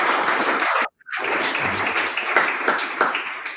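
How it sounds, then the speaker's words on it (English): A small audience applauding a speaker named Alex at the close of an Atlassian certification session: a close, steady patter of hand claps that drops out briefly, then resumes. "So I'll request we give Alex one more round of applause"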